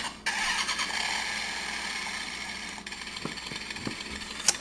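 Kamen Rider Accel DX Driver toy belt playing its electronic revving engine sound, a loud continuous whining rev lasting several seconds with a few clicks of handling near the end.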